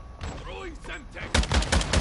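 Battle rifle fire in Call of Duty MWII, a quick string of loud close shots that starts partway in, after a stretch of quieter game sound with a voice talking.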